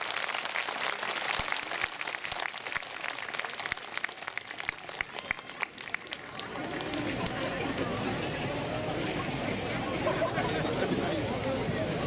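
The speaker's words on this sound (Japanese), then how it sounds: "ご来場の皆様特別ゲストの綾瀬はるかさんに今一度大きな拍手をお送りください" A festival audience at Tsuruga Castle applauds a special guest at the 2014 Aizu Festival procession departure ceremony. Crisp, scattered clapping dominates for about six seconds, then fades into a broad wash of crowd chatter and outdoor bustle.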